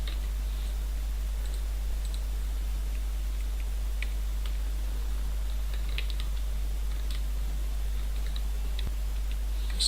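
Faint, scattered key clicks from a computer keyboard while coding over a steady low electrical hum, with irregular taps rather than fast continuous typing.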